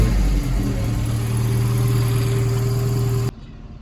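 An Austin A35 engine with the choke pulled runs at a loud, steady idle with a deep, even hum for about three seconds, then cuts off abruptly into near silence.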